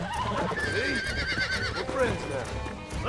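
A horse neighs and whinnies repeatedly while being broken and tamed in the Red Dead Redemption video game, with hoof clip-clops and a person talking over the loud, continuous struggle.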